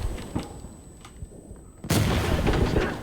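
A frag grenade goes off in the tactical shooter Insurgency Sandstorm, a single loud, close blast that cuts in suddenly after quieter distant shots and fades into a rumbling tail.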